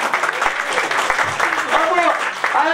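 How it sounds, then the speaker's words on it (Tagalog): An audience claps together at a business presentation, a short burst of applause mixed with voices and chatter from the crowd. "Kaya pag may pumalakpak na isa, palakpakan nyo."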